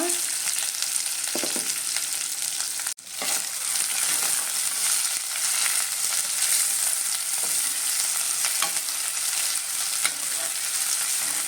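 Chopped medium onion, dried red chilies and curry leaves frying in a pan for radish sambar, a steady dense sizzle throughout with occasional stirring scrapes, close and continuous without talk.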